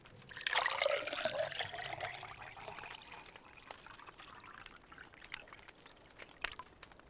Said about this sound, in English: I'll just fill this with water.